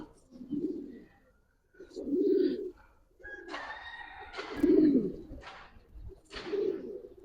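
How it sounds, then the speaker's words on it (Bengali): Giribaz pigeons coo close by in a slow series of low, throaty rolls, with a few sharper chirps and flutters mixed in between the coos. "আজকে যে গুলো নামাইছি ভাই সব উঠতি কবুতর এবং খুব সেরা কবুতর"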